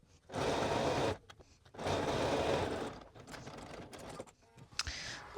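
A sewing machine stitches ribbing onto a Cashmerette Stanton hoodie in two steady bursts of about a second each, followed by quieter, slower stitching and a few handling clicks near the end.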